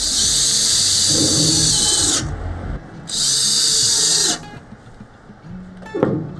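A power drill drives screws into metal flashing on a flat-roof shelter, whining loudly in two sustained bursts with a short pause between, then falling quiet apart from a small clatter near the end.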